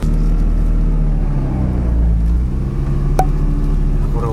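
A car engine droning steadily while driving, loud and close from inside the cabin, with a low rumble and a smooth, even tone throughout.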